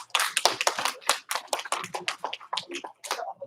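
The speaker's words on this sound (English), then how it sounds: "Give him 1 clap. 2 claps." A small group claps in a quick, uneven burst of many sharp hand claps, close and fairly loud.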